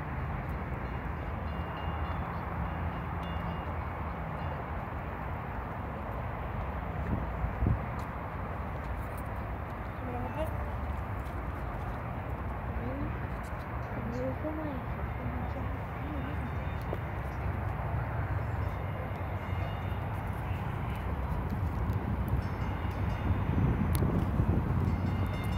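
DCTA A-Train pulling out of Trinity Mills station: a steady low rumble of rail cars that builds toward the end, with scattered squeals and clanks over the running noise.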